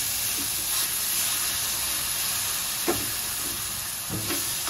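Brinjal bharta mixture sautéing in a pan over steady heat: a continuous loud sizzle and hiss, broken now and then by soft scraping stirs.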